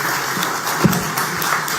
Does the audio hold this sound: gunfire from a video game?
no